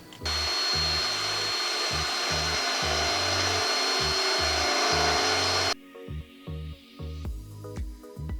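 A cheap Ryobi power drill with a 5/16 bit bores through 1/8 inch sheet metal with no pilot hole, giving a loud, sustained grinding whine that cuts off abruptly, while someone talks over it.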